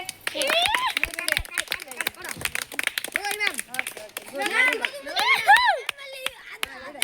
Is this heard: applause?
yes